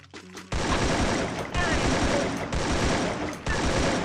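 An enemy squad fires on the player in the Free Fire mobile game, producing sustained, dense, rapid gunfire that runs almost continuously after a brief quieter opening.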